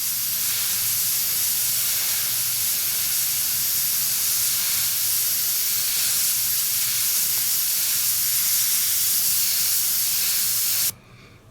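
An airbrush sprays Tamiya paint, buff over clear, onto a King Tiger tank model with groundwork in a steady, close, continuous hiss that cuts off abruptly near the end.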